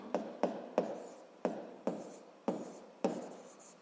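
Pen strokes writing out a physics problem, six or seven short scratchy bursts in a steady rhythm, close and quiet, with no talking.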